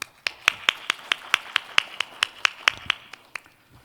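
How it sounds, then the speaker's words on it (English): About fifteen sharp claps ring out in a steady rhythm from a sparse audience at a forum session, welcoming a speaker, then slow and fade away. "Please welcome him with a big round of applause."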